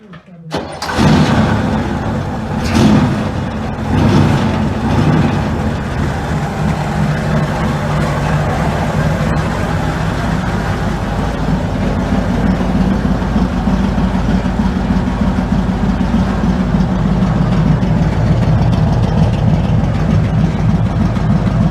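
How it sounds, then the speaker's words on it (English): A 1971 Camaro fitted with homemade side pipes cranks over and catches, then settles into a loud, lumpy idle close by, with sharp bursts early on and a steady throaty rumble afterward; a voice is heard near the start. "John, give it like 2 pumps and then crank it"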